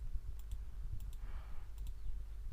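A computer keyboard gives a few soft, sparse key clicks at close range over a low background hum, with no talking.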